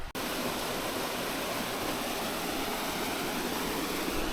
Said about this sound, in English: A little picturesque little waterfall, or a cascade I should say.